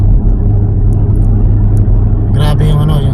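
Car traffic rumbles along the road on the way to an airport, a steady loud low engine drone throughout with a brief brighter passing swell near the end, voices faintly underneath.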